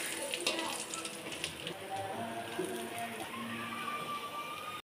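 Fish frying in hot oil for a village-style fish curry: a steady, close sizzle with crackling pops runs through the whole few seconds, with no talking.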